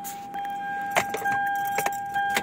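Keys jangle in the ignition of a 2023-24 Toyota Avanza as it is switched off, a few sharp metallic clinks over a steady electrical whine, close and fairly loud, with no talking.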